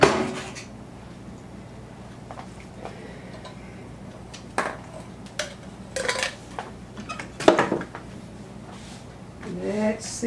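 An iron skillet handled on a home stove while cooking Tex-Mex cornbread, with scattered metallic clanks and scrapes of varying loudness over a low background hum, a voice talking between them.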